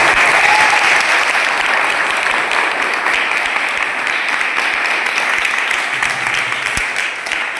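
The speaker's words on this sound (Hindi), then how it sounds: "इनके लिए जोरदार तालियां होनी चाहिए।" At an art film screening event in Lucknow, the audience gives loud, sustained applause. Dense clapping fills the room for several seconds and stays strong throughout.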